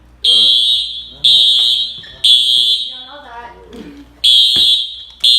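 A college dormitory fire alarm blares in loud, evenly spaced high-pitched bursts with short gaps, while people talk beneath and between the blasts.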